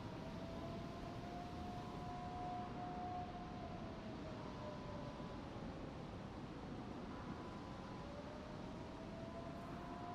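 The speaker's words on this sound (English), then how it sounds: "Can you hear the sirens?" A steady wailing siren in the video game DayZ rises and falls through a dense, constant wash of noise.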